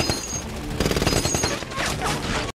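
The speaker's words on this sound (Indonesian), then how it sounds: "mereka langsung menembaki Chris dan Lu Feng." Gunfire from a film scene set at an attacked oil refinery, dense rapid bursts of automatic shots in a fast rhythm, loud and close, ending abruptly in silence.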